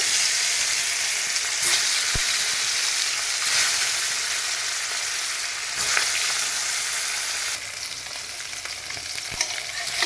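Fish fries in hot oil in a wok, giving a continuous, close, loud sizzle with a few clicks of stirring and a slight drop in level near the end.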